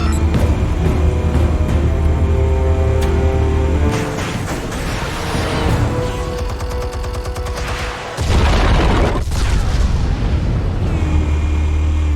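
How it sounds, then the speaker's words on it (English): Repeated explosive detonations in Batman: The Telltale Series, heavy booms and rumbling blasts layered over a dense, loud game score, with a brief drop in the middle before the blasts return. "Explosives armed. Fire when ready."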